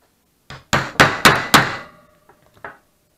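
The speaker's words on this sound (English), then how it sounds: "The real question is will I be able to mark it with a punch?" Hammer blows drive a punch into a metal boost-bottle manifold, five sharp, loud metallic strikes in quick succession with ringing decay, followed by a few faint taps.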